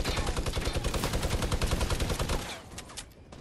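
Rapid bursts of heavy automatic fire from a minigun in a video game, a dense rattling volley that runs loud and continuous for over two seconds before thinning into a few scattered shots.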